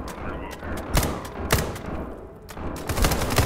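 Rapid bursts of gunfire with sharp shots and heavier thuds fill a firefight in the video game SCP 5k, scattered over about three seconds against a steady background din.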